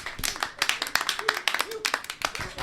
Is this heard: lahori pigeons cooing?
no